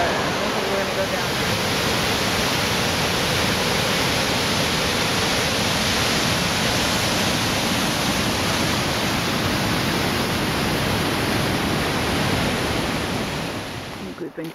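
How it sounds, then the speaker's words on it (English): Steady, full roar of a waterfall on a hiking trail near Flagler and Ediz Hook on the Olympic Peninsula, loud and continuous throughout and easing slightly at the very end, with talk faintly under it. "Waterfall that we've come to see. Oh, I think this is it."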